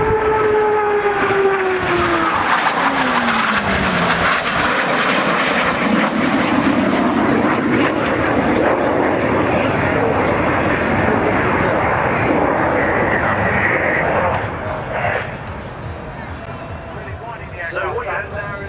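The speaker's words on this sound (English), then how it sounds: "starting to accelerate the aircraft up to over 400 knots" Jet aircraft accelerating to over 400 knots during a low display pass at an air show, a loud continuous roar with a falling engine whine that swells and then eases off after about fifteen seconds.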